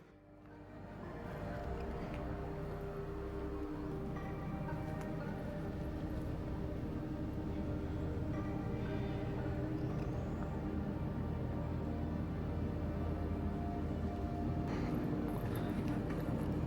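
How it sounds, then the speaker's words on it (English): An electrical transformer hums in the corner of a windowless old historical train depot, a steady low tonal drone with layered harmonics that swells in during the first seconds and then holds evenly. "a transformer is humming in the corner"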